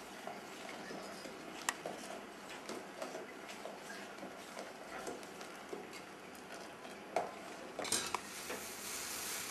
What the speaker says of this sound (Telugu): 1 కప్పు చక్కెర వేసి కలుపుకోవాలి